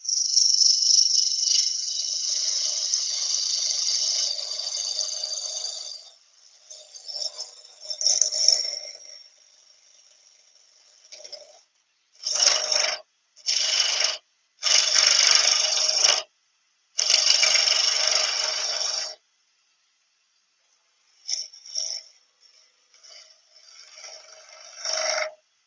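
A gouge cutting a wooden fruit on a lathe gives a close, bright hissing scrape in repeated bursts, first one long pass, then several short cuts separated by quiet pauses.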